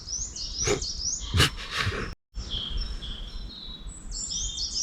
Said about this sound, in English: We've got wrens, we've got finches, we've got tits.